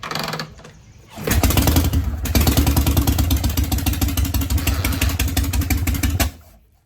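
After a quiet moment, a Harley-Davidson Panhead motorcycle engine fires up and settles into a loud, steady, lumpy running beat for about five seconds before cutting out abruptly.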